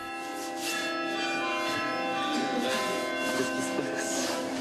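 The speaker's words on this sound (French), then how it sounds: "Ce sont les cloches qui s'en mêlent." Church bells in the Panier quarter of Marseille ring out in a dense, overlapping wash of tones, sustained and steady, heard from a moderate distance.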